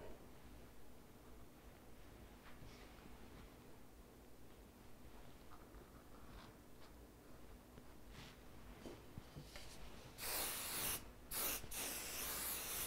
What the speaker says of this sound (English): A little bit of finishing spray, very fine mist, fast drying yet workable spray